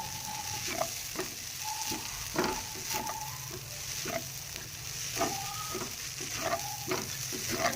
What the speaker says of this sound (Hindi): आँच हल्की पे भूनना है ना, इसलिए टाइम लगता है।